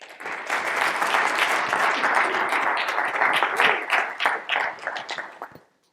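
An audience applauds steadily for about five seconds to welcome a presenter to the podium, a full, dense clapping that swells and then fades out near the end.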